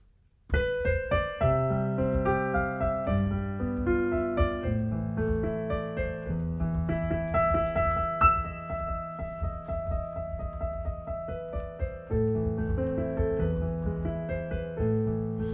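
A solo piano plays a flowing, moderately paced melody from Für Elise with a steady accompaniment, clear and close, with no voices.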